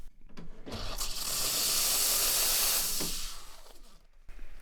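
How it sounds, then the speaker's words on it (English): An espresso machine's steam wand lets out a loud, sustained hiss lasting a few seconds, swelling up after a click and tapering off before another click, close and alone. "we'll make sure the steam wand works"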